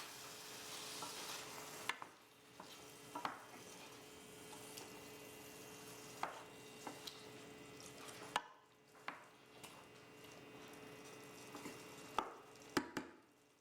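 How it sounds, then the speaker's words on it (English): Spaghetti squash with Kalamata olives and chickpeas stirred in a pan, soft scraping and clicking strokes repeating every second or two over a faint steady sizzle. "Stir to combine."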